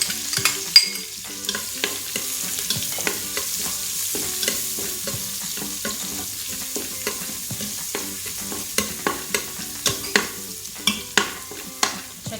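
Garlic frying and being stirred in an Instant Pot for kare-kare, with steady sizzling and repeated scraping stir strokes that grow sharper toward the end, no talking.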